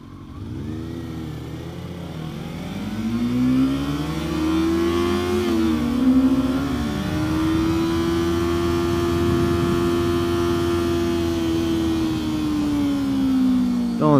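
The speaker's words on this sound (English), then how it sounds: "Oh, my exhaust is a joke." A car on its stock exhaust revs up and holds, the engine note climbing, then sustaining a steady drone before easing off, close and alone with no talk.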